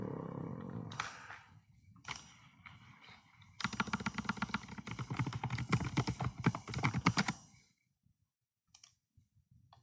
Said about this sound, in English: Man, I cannot type.